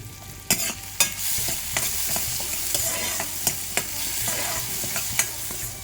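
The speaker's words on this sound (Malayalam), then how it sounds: "പരിപ്പാണ് ആദ്യം വറക്കണേ." Lentils (parippu) frying and being stirred in sesame oil, a steady close sizzle with scattered sharp clicks and scrapes of a utensil against the pan, no talking.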